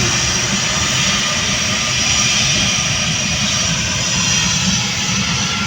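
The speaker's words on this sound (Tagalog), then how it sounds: "ang laki mga idol malaking aeroplano" A large aeroplane's engine roars at an airport, a loud, steady broadband rumble and whine that holds constant throughout without any voices.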